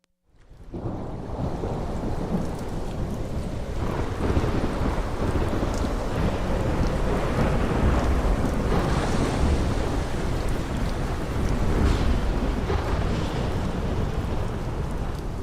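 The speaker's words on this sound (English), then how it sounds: "The storm is terrible." A thunderstorm roars close and loud, with heavy rain pouring in a dense, steady wash and deep thunder rumbling underneath, swelling in places, with no voices.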